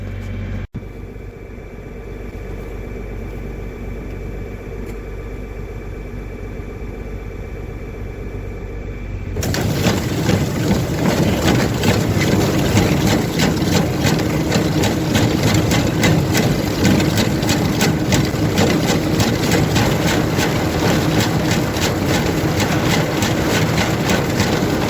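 An old reverse manure spreader's engine, with its beaters at the front, cranks and catches after a quiet low rumble. It then settles into a loud, steady idle with a dense mechanical clatter that lasts to the end.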